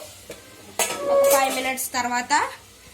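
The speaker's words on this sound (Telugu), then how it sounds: "ఇప్పుడు మనం మొత్తం ఇదంతా మిక్స్ చేసుకొని మూత పెట్టుకుందాం" A tomato pasta sauce gets stirred in a pot and the lid is set on. Metal spoon and pot clinks ring out in a few sharp bursts, with a couple of resonant scrapes, close and loud.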